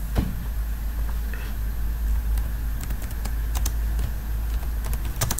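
Keys clatter on a computer keyboard as text is entered in ArtCAM design software, with scattered individual keystrokes and short quick runs over a constant low background hum.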